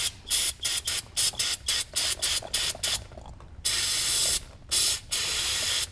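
Carbon choke cleaner sprays onto a dirt bike part in a series of short, sharp aerosol bursts, followed by two longer continuous hisses, close up with no talking.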